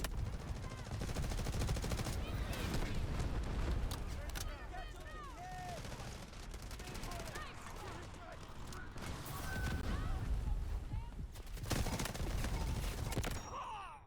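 Dense, continuous gunfire from the video game Delta Force, with rapid automatic bursts and heavy shots layered into a loud, busy battle mix that runs the whole time, with a voice faintly under the shooting.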